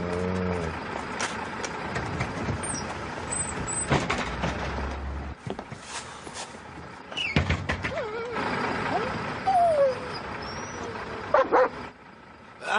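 A dog, the police dog Rex from a French TV crime drama, whimpers and yips in short bursts near a bus, mixed with street and vehicle noise and some speech.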